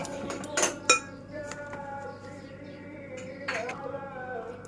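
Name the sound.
stirring donut batter with a spoon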